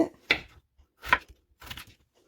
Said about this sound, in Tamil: இப்போ இந்த கிழங்கையும் நாங்கள் கட் பண்ணி எடுத்துக்கொள்வோம்.